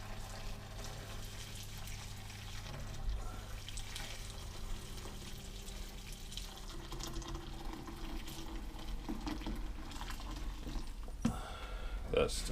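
Hot soapy water runs steadily into a container, a faint, even rush of pouring liquid that lasts throughout with no clear breaks.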